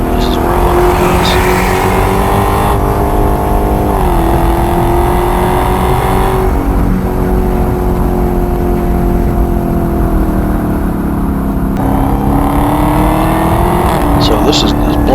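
A Dodge Hellcat driven on a race track with a black Corvette nearby, engine droning loudly from inside the car with rising and falling pitch as gears shift, someone talking over the steady roar.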